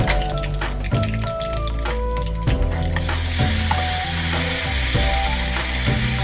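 Tempering spices with a pinch of asafoetida crackling and sizzling in hot oil for bread upma, loud spattering bursts alongside clanking and stirring sounds that swell into a dense sizzle halfway through.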